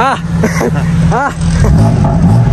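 A stage 3 tuned BMW M3 F80 with over 700 hp rumbles at close range with a deep, throbbing engine note that swells toward the end, while people talk over it.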